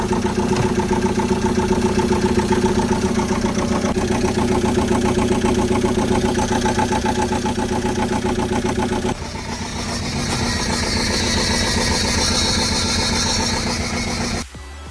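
A cold diesel van engine in poor condition, with its turbo and throttle soaked in oil and the exhaust smoking heavily, idles loudly and steadily. The tone shifts partway through before the engine cuts off abruptly near the end.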